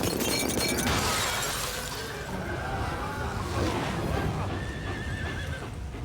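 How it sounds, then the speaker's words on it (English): A horse neighs loudly with a shrill whinny as hooves clip-clop and water splashes, in an animated river escape scene with a woman riding the horse. "Sheila escapes down the river, riding Daisy the horse and wearing her pink nightie"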